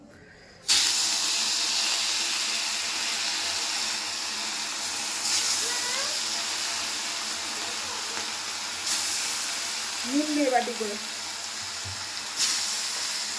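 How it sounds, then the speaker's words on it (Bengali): Loud, steady sizzling hiss of fish frying in hot oil in a wok, starting abruptly and continuing throughout, with brief speech and a few faint clinks partway. "আমার মাছ ভাজা হচ্ছে"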